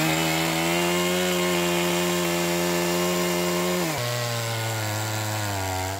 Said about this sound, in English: That is our chainsaw mill.